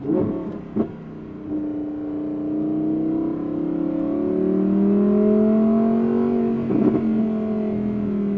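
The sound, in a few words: Audi R8 V10 with Valvetronic titanium exhaust revving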